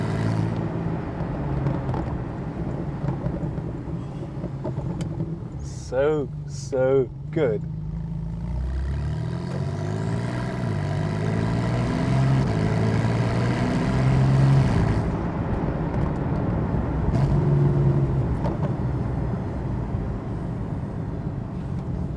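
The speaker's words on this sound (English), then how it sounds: "that burble and that sound from that sports exhaust is something else" A Porsche 991.2 Carrera GTS sports exhaust burbles deeply and swells as the engine revs through gears, close by, with a brief spoken remark early on.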